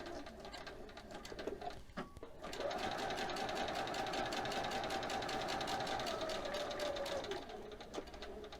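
Sewing machine stitching in a steady run of several seconds, faint and even, with brief starts and stops at either end and some light background noise.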